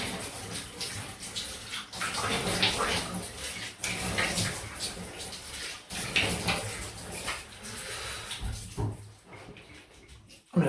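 Running water from a tap splashing in a bathroom sink during a quick rinse after a wet shave with a Wilkinson Sword classic razor, a steady close gush with small surges and a brief clatter near the end.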